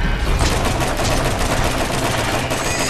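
Dense, rapid video game gunfire, loud continuous bursts of shots filling the whole stretch.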